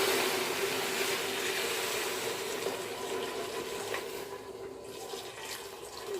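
About a litre of water poured into a soup pot for leek and potato soup, a steady rushing splash that fades slightly toward the end, close and continuous, with no talking.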